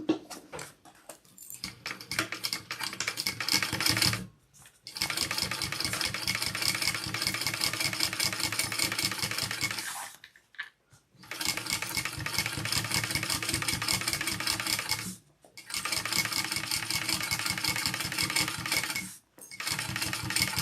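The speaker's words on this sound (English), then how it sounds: "And then we will be top stitching on the base." Sewing machine top stitching the base of a handbag, running in long steady bursts of rapid needle chatter separated by short pauses, close and clear with no talking.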